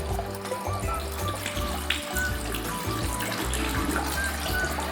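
Tap water runs steadily into a sink while hands are rubbed and rinsed under the stream, a continuous splashing with no voices.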